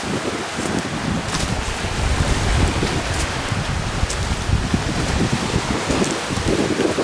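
Wind gusts across a lake, a continuous broadband rush with rustling texture and occasional buffeting on the microphone, steady throughout with no voices.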